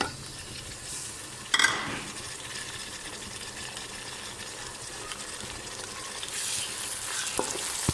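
Tomatoes drop into browned onions frying in a pan while cooking okra fry, giving a sharp splash of sizzle followed by a steady, close frying hiss with occasional stirring scrapes.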